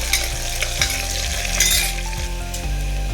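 Onions fry in hot oil in a pan with a loud, close, continuous sizzle, accompanied by a low steady hum and occasional clinks of stirring.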